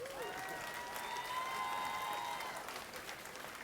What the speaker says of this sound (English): a big round of applause for both of these men